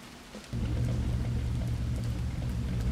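In Roblox Vehicle Simulator, steady rain with a low thunder rumble sets in suddenly and holds, a dense continuous wash of falling water over a deep rolling roar.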